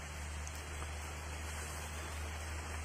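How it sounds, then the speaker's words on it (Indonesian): Rain falls steadily at a night campsite, a dense, even hiss of drops on surfaces that fills the whole moment without a break, with no voices over it. "Aduh ini hujan-hujan gini"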